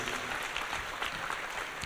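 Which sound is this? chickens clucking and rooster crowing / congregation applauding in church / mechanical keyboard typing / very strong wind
congregation applauding in church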